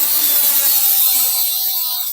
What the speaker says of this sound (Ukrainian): перва відмінність, якою саме легше це все зробити, це болгарка і іскра.